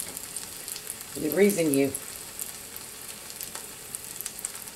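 A spoonful of potato patty mixture frying in hot oil, a steady close sizzle under a brief spoken voice.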